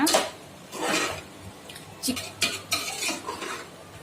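A spoon stirs chicken biryani masala in a pan with a few scraping, clinking strokes over a soft background sizzle, close and moderately loud.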